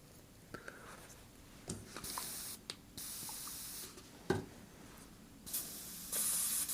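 An airbrush fires short hissing bursts of cleaner through its nozzle during cleaning, with several brief sprays and a longer final blast, close and fairly quiet.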